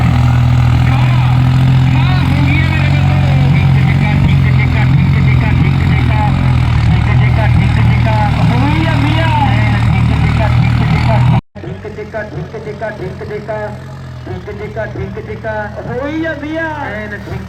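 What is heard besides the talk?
tractor engine revving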